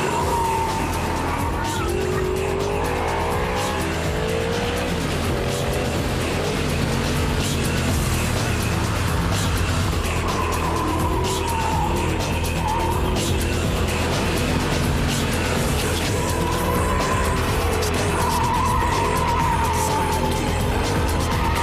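An Audi R8 is driven fast around a race track, its engine note rising and falling steadily through gears, with brief tire squeal and a continuous loud roar throughout.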